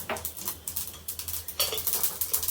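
Mustard seeds and cumin spluttering in hot oil, close, quick irregular pops and crackles over a low steady hum.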